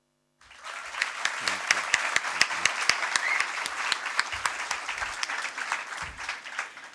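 An audience at a literary festival reading by Mohammed Hanif bursts into loud applause, a thick wash of clapping that starts suddenly, holds strong, then slowly thins toward the end.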